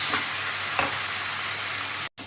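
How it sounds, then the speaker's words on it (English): Dense, hissing sizzle of boiled urad dal with turmeric frying in a hot pan to dry off excess water, steady and close, with a couple of faint stirring scrapes. "putting the urad dal or biuli dal which we have boiled with haldi and a little bit of salt over here and fry a bit"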